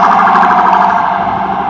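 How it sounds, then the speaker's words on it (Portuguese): An ambulance siren wails continuously on a Manhattan street, loud and close, with a steady rising and falling tone over traffic rumble. "Ambulância para tudo quanto é lado."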